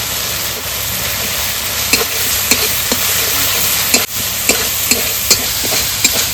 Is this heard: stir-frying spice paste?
yes